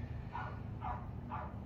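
A dog gives three muffled barks in quick succession, somewhat distant and fairly faint over a steady low background hum.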